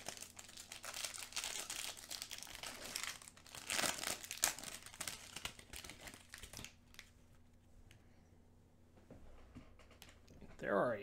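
Foil packs of 2019 Update baseball cards, fat packs from a hobby box, are torn open. Close, busy crinkling and ripping of wrappers runs for several seconds, then quiets over a low steady hum before a final rustle.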